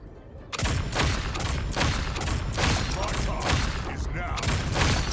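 Rapid gunfire from The Hood's weapon in a video game, a series of sharp repeated shots in close succession, loud and continuous over several seconds.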